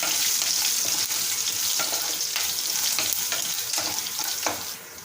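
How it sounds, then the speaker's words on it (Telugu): Crushed garlic sizzling in hot oil tempering for a ridge gourd chutney, a steady, close frying hiss with occasional crackles and a stir or two, no voices. "ఎల్లిపాయలు దంచేసుకొని పక్కగా అవి కూడా తాలింపులోకి వేసుకోండి"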